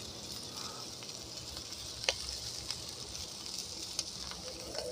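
A shrimp burger fries in a drizzle of oil, giving a steady close hiss and sizzle with occasional small pops and crackles, no voices.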